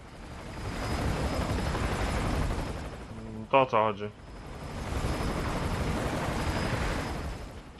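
A helicopter in the game Call of Duty: Ghosts drones with a steady, loud rotor roar that fills the scene. A voice briefly cuts in over the noise midway.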